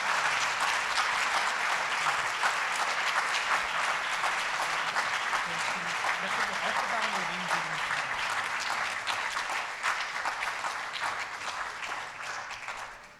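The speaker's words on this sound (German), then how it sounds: "Danach einen ganz großen Applaus für den flotten Vortrag." An audience at a World Stroke Day 2021 event applauds steadily and warmly for over ten seconds, the dense clapping tapering off at the end, with faint talk underneath.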